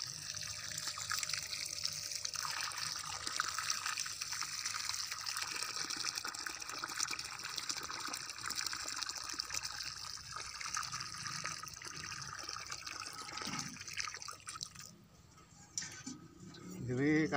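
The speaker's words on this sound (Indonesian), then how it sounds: "Lalu kita siram." Water poured onto the soil around a newly planted tangerine seedling, a steady gushing, trickling flow running nearby and fairly loud for most of the stretch before it tapers off near the end.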